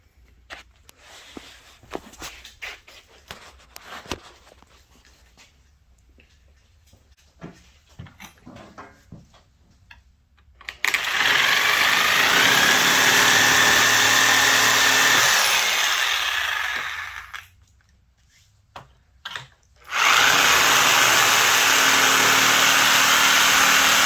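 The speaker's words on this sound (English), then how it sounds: "This piece of plastic. So I'm going to cut this way." Power tool cutting a plastic motorcycle tail piece for an SV650, preceded by quiet handling clatter, then two loud bursts of harsh, whining cutting noise separated by a short pause.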